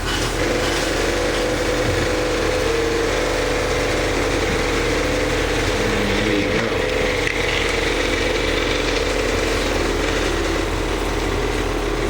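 A model boat's small engine runs steadily at around 55 with a constant buzzing drone, close by, while someone speaks briefly over it.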